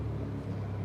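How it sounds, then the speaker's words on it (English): A low, steady car engine drone, close and continuous for under a second, with a deep rumbling hum and no other sounds. "here's the engine sound"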